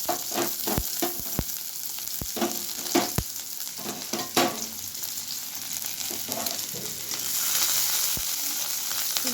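Chopped onion sizzles steadily in hot oil in a home kitchen pan, with sharp scraping clicks from a spatula as it is stirred, close up and continuous, the frying growing slightly louder toward the end.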